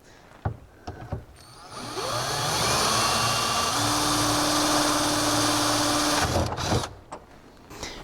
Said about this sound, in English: And again, we're going to use the same drill bit.